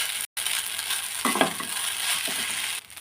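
Chicken pasta gets stirred in a frying pan after Maggi masala is added, a low steady sizzle with a brief burst of scraping and clattering from the spoon midway.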